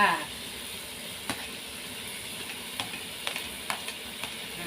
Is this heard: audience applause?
no